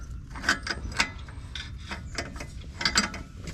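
A ratchet wrench clicks while turning an oxygen sensor on a 2014 Chevrolet Malibu LT, with a run of close, sharp metallic clicks spaced irregularly over steady low background noise.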